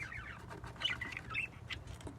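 Budgerigars, lutino and painted pairs kept in a breeding setup, chirp and warble in quick, faint bursts over a low steady hum, with a few sharper squawks standing out.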